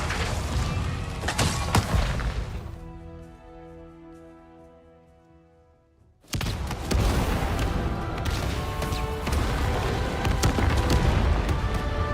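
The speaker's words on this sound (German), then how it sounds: "Habt ihr Explosion gehört?" Dense rumbling blasts and crackling bursts from the video game Avatar: Frontiers of Pandora fill the air, fade into a ringing lull, then a loud explosion cuts back in with continuous booming.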